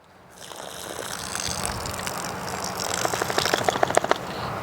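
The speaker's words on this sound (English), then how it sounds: "So we'll pour the water off and we'll sow the seed in a nice row." Water poured off a container of soaked bean seeds before sowing, a steady splashing gush that builds over a few seconds with sharper trickling spatters toward the end, close and alone.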